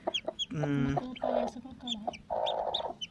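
Kadaknath chickens, an all-black breed, cluck and squawk in repeated short calls, fairly close, with a longer harsh cry near the start and several brief clucks between, over a quiet yard background.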